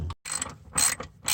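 A hand ratchet tightens bolts on the pitch stop mount of a 2009 Subaru Impreza WRX, giving close, loud bursts of rapid metallic clicking in several strokes with brief pauses between them.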